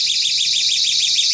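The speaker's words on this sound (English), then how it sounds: "the other switch is the alarm" A home door alarm sounds a loud, continuous high-pitched electronic tone, held steady and alone with no talking.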